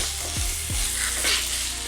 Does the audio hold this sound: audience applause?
no